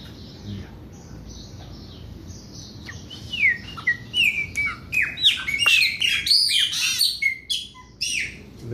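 A Brazilian blackbird (pássaro preto) that has escaped and is perched on a rooftop gives a lively run of clear chirps and whistled calls. They begin after a quiet start and grow denser and louder, over faint low background noise.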